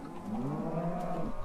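A Minecraft cow lets out a single drawn-out low moo, steady and fairly quiet, filling the short moment with no one talking.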